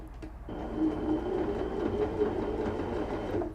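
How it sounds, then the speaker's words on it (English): Baby Lock Anna sewing machine running in stretch stitch mode, a steady close mechanical whir and rapid needle chatter that starts after a brief quiet moment and holds evenly for several seconds, with no voice. "now that this is in the stretch stitch mode, I'm ready to sew. You're going to take a few stitches"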